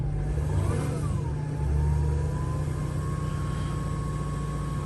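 Engine of a 2007 Freightliner Sprinter van running steadily at a high idle, with a constant drone and a slight rise in revs early on, heard close and alone.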